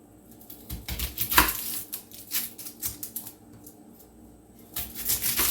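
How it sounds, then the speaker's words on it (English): Knife trimming and slitting an onion on a cutting board in a home kitchen, a series of sharp close taps and clicks at an uneven pace, fairly quiet with faint background hum. "I cut the ends, and then I cut a slit and peel the first 2 layers"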